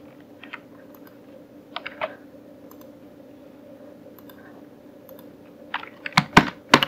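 Sparse, faint key clicks from a computer keyboard sound over a low hum during word processing, then grow into a louder cluster of quick taps near the end.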